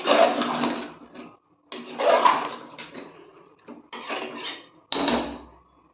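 A spoon scrapes and clanks against a pot as masala is stirred into chicken for biryani: four bursts of close, busy clatter separated by short pauses, with no talking.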